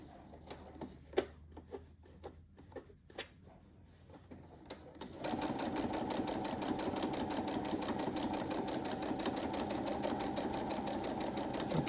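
Sewing machine stitching a fabric basket: a few scattered clicks and taps, then a steady, close, rapid mechanical chatter of continuous stitching that holds to the end.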